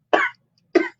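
Two short, sharp coughs about half a second apart, close and clear against silence.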